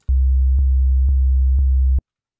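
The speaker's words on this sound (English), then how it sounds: "That's literally just a sine wave that's playing, right?" A plain, low sine-wave synth tone plays in Ableton as a steady four-on-the-floor legato note with no kick-drum punch. It repeats four times with a faint click at each retrigger, loud and alone.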